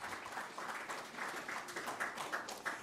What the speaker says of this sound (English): So let's give a round of applause to Coach Landers for that.